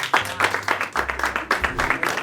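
A small group applauding in a room, about eight uneven rhythmic claps close by, each a sharp burst, with a low hum underneath.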